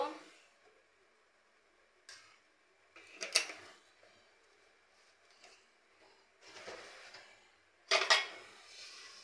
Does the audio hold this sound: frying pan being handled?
yes